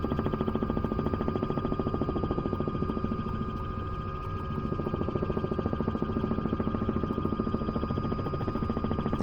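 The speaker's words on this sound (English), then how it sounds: "That sound is blade slap." A Robinson R66 helicopter in MSFS 2024 thrums steadily through a turn, its rotor beating in a fast regular pulse over a constant engine whine, heard from inside at moderate level without talk.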